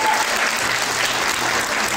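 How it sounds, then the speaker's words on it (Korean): Wedding guests in a banquet hall at Suwon Myers Wedding applaud the bride and groom as they bow, a steady, full burst of clapping that holds at an even level throughout. "여러분 박수 한번 부탁드릴게요."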